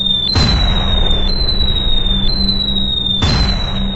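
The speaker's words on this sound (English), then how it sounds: "He releases the bombs." Bombs dropped from a bomber explode on the target, two loud booming blasts over a constant engine drone and a high whining tone.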